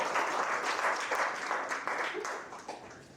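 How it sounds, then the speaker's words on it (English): Audience applause at a poetry slam competition during Poetry Africa 2025, a dense, steady wash of many hands clapping close by that thins slightly toward the end. "Another round of applause for Sbusi."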